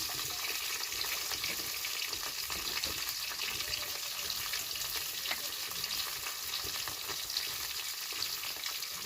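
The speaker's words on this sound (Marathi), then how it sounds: "भेंड्यात आणि फ्राय करून घ्यायचे आपल्याला थोड्याशा भेंडे टाकले" Okra frying in a pan, a dense, continuous crackling sizzle with soft stirring throughout, heard close and alone.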